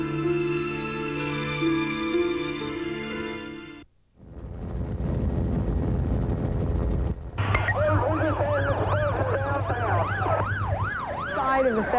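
Emergency sirens follow the Oklahoma City federal building bombing: a steady electronic tone stops, a short burst of noise comes next, then loud wailing sirens sweep up and down.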